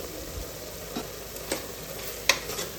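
Mushroom biryani masala with green chili and tomato gets stirred in a pan, a low sizzle under a few scattered scrapes and one sharper clink.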